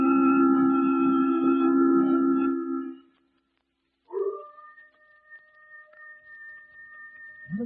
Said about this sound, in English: Except that coyote off in the hills.